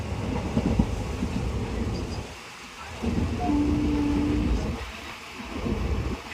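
A moving train rumbles along with a rhythmic clickety-clack, its noise swelling and dipping in steady waves.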